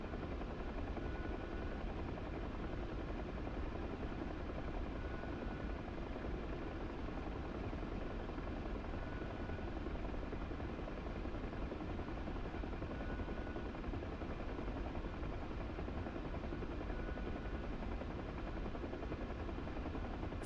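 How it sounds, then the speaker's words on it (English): Apache attack helicopter flying in a video game, a steady loud rotor drone that holds evenly throughout with no break and no talking. "Fly the Apache in the 104th."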